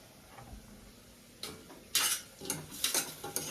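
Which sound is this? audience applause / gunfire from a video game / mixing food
mixing food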